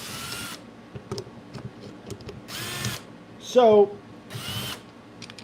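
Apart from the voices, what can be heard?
power drill driving screws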